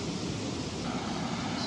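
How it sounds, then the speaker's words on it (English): A small waterfall in the woods pours into a pool, giving a steady, broadband rushing wash that holds at an even level throughout, close and continuous with no voices. "Nice little waterfall and a pool on that"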